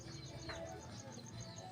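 Pigeons coo softly at a distance in a brief, faint stretch of low throaty calls over quiet background noise.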